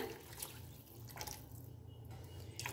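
Stock poured into a pot of simmering homestyle chicken thukpa, a steady liquid trickle and splash running under a faint background hum without pause, with no voices.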